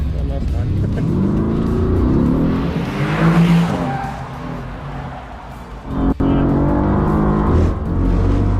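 A Mercedes Formula 1 car is driven fast around a race track, its engine roaring loud and near, revving and accelerating with tyre squeal and skidding, and a sharp shift in the middle of the lap.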